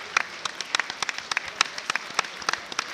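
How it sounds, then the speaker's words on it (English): Audience applauding in a standing ovation after an elite fight at a live event, scattered sharp claps over a steady wash of applause, moderately distant. "There's not a single person not clapping in the room right now."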